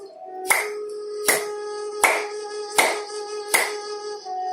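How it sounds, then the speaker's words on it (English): Hands clap sharply for acupressure during a yoga session, five crisp evenly spaced claps over a steady sustained tone, close and fairly loud. "Acupressure can be also by clapping."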